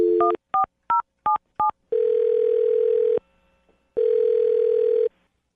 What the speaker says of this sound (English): I'm going to dial Alyssa's phone number right now